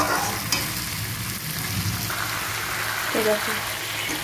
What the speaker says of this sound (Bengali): মাংসটা ভালো করে একটু কষিয়ে নেব